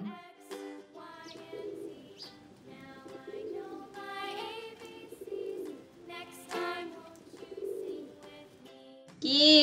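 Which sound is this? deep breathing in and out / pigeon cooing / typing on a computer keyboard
pigeon cooing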